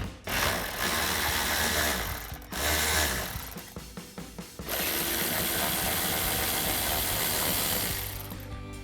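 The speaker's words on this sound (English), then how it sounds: "So our first step is to remove these 2 8mm bolts." Socket ratchet clicking as two 8mm bolts come off the splash guard of a Jeep Gladiator JT during a front bumper install, with a rapid burst of clicks between longer stretches of continuous whirring, close and clear without speech.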